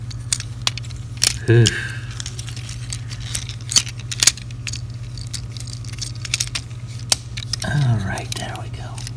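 Plastic parts of a Transformers Studio Series 86 Autobot Hot Rod figure being folded and clicked into place. Small, close clicks and rattles are scattered through a quiet room, with a brief grunt partway through.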